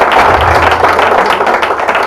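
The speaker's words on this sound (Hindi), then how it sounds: "एक बार तालियां बजाएं।" Audience at a Hindi comic poetry gathering applauding, a dense steady wash of clapping from a crowd filling the whole two seconds, no speech over it.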